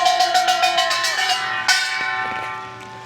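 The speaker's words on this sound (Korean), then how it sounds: "발언을 꽹과리와 힘찬 징소리로 맞이하도록 하겠습니다" A Korean kkwaenggwari small gong rings in rapid, bright metallic strikes, and a deep jing gong crashes in partway through, sounding close and loud at an outdoor rally before the ringing fades.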